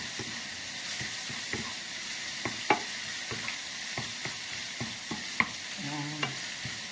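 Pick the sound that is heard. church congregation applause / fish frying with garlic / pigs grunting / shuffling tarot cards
fish frying with garlic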